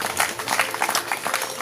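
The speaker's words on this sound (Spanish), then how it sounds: "Denle un aplauso al Señor." Congregation clapping for the Lord during a church service, a brief dense burst of many hands applauding close and loud.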